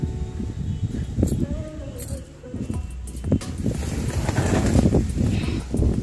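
Strong wind buffets the microphone in rough, rumbling gusts that swell and drop, with faint rustling underneath.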